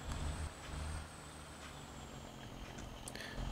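Heavy truck in the Truck Simulation 19 video game: a steady low engine rumble with a hiss of air brakes, plus a brief sharper release near the end.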